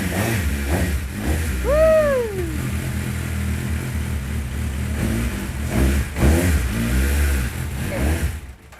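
A Hayabusa-engined Cup200 race car fires up and revs hard, a rising and falling rasp followed by a loud, steady engine note close by with further throttle blips.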